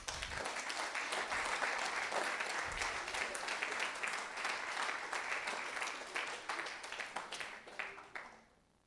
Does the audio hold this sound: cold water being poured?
no